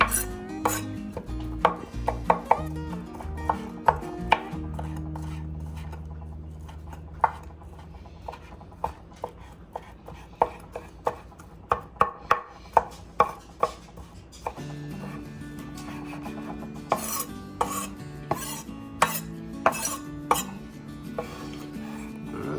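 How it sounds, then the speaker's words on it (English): Knife chopping meat on a cutting board for a Reuben dip: long runs of close, sharp taps, sometimes rapid and sometimes spaced, with brief pauses between bursts and no talk. "I'm gonna go ahead and I'm gonna chop up the rest of them"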